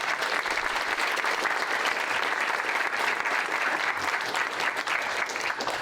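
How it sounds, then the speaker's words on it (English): Dense, steady applause from a large debate-championship audience welcoming a guest, a continuous wash of many hands clapping at even loudness throughout with no break. "Let's give you a round of applause."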